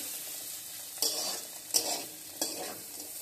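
Onions and chicken fry in a pot for a homestyle chicken biryani, hissing quietly and steadily while three sharp stirring scrapes cut in at intervals.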